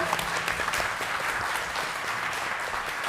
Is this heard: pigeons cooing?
no